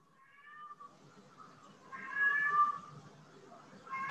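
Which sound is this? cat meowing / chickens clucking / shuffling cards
cat meowing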